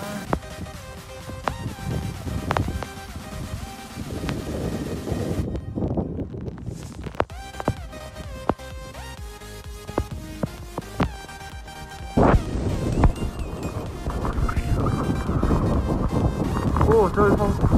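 Gusting wind from Typhoon Higos blowing hard around an outdoor spot in Hong Kong, a broad roaring rush that surges and drops, joined by rattling and clatter, with people talking over it.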